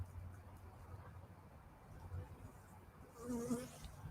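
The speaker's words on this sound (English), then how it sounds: "amazing how bees seem to like cigar smoke" Bees buzz and drone faintly in the background, drawn to cigar smoke, a steady low hum that swells briefly near the end.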